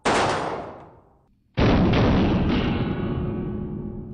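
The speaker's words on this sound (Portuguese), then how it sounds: "a Kalashnikov pode disparar um único tiro ou entrar em modo metralhadora" An AK-47 Kalashnikov rifle chambered in 7.62x39 mm fires two single loud shots about a second and a half apart, each a sharp blast that rings out and decays in a long echoing tail.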